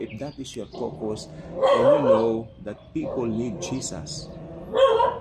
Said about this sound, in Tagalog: Pasensya na po sa aso na ingay.